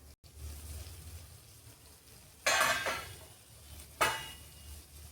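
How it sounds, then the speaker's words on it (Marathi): A lid lifted off a pan of fried leftover chapati and bhakri pieces, two bright metallic clatters a second and a half apart over a low background hum. "याला आपण झाकण काढूया।"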